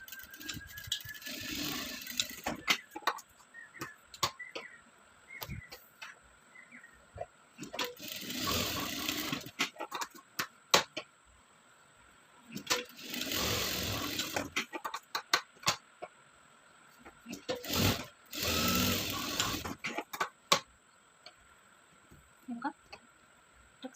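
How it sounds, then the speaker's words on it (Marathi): A sewing machine stitches a four-tuck blouse in bursts of fast mechanical whirring. The runs alternate with quieter gaps and soft handling noises, and someone talks between them. "आज मी स्टिचिंग दाखवते कोटक्स ब्लाऊजची"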